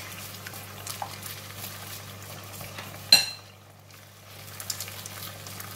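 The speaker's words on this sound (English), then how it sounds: "Alright, garlic is brown. And I'm going to put in the egg." An egg cracks with a sharp snap against a pan of browned garlic for a stir-fried vegetable dish, followed by a brief quiet and then a soft, rising sizzle of frying over a low hum.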